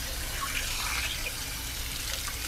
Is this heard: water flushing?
yes